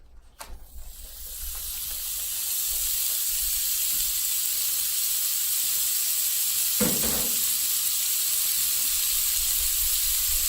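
A one-third-pound burger patty sizzles in a pan, a steady bright hiss that builds over the first seconds and then holds constant and close, with a brief clatter partway through.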